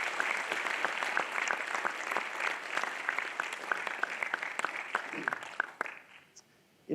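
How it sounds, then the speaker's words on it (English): Graduation audience at an international school applauding the class of 2024: sustained, dense clapping from a large crowd, fairly loud and even, that tapers off and drops to near quiet in the final second. "I ask that you join me in applause"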